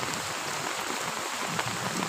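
Heavy rain pours down steadily in a dense, even wash of noise that fills the whole stretch, loud and close, with no voices.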